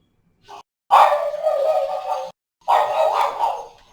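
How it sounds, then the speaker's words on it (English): A dog barks indoors: one short yip, then two long, loud, drawn-out barks or howls separated by a brief pause, heard alone without talk. "Sorry about my dog."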